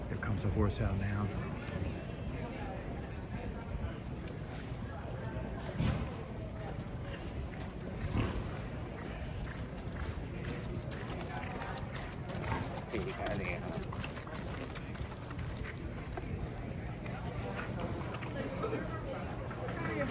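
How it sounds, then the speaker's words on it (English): Horse hooves clip-clop steadily at Saratoga Race Course, a rhythmic clatter amid busy outdoor background noise and people talking. "Here comes a horse out now."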